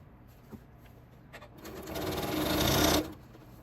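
A sewing machine chain pieces quilt strips at a quarter-inch seam, starting with a few soft clicks and then running in a steady, rising whir for about a second and a half before stopping; no talking.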